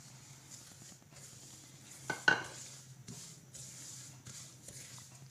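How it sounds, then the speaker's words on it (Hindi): Semolina poured into hot oil in a pan and stirred while roasting for halwa, a soft steady sizzle with a brief louder clatter of the spoon against the pan, close and quiet. "ऑयल गरम हो जाए तो फिर हम इसमें सूजी डाल के दोबारा उसको भूनेंगे।"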